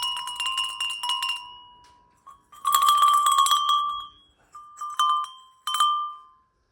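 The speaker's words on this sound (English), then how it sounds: "Includes wooden strikers inside the bells with a thick rustic jute rope." Rustic brass-colored iron bells with wooden strikers inside, hung on a thick jute rope, clang in several bursts of bright metallic ringing, each clatter followed by a lingering tone, close and clear, with quiet pauses between shakes.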